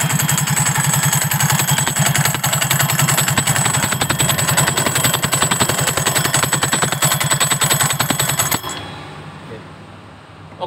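A Yamaha Soul GT scooter engine with a faulty connecting rod runs close and loud with a rapid, rough knocking clatter, then cuts off abruptly near the end and leaves a fading hum.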